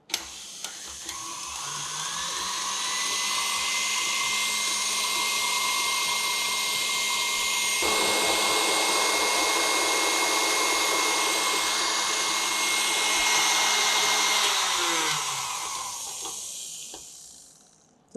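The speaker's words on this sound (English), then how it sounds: "Continue on high speed and keep beating, and then until it becomes smooth creamy buttercream." An electric mixer beats Italian meringue buttercream on high speed with a steady loud whirring drone. The pitch shifts partway through, and the sound winds down near the end with no talk.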